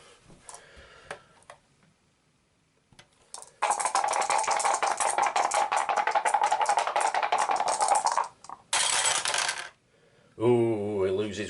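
Dice rattle during an Arkham Horror board game, first in a long, loud clattering shake, then in a second shorter burst, then a brief tumble, with quiet gaps between and a short voice at the end.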